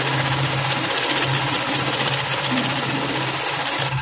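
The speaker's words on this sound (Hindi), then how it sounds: "अब ये देखें, आप मिक्स काउंट कर रहे हैं नोटों को" A cash counting machine runs through a stack of mixed banknotes with a loud, steady, rapid mechanical whirring and fluttering, a continuous buzzing rhythm with no pauses.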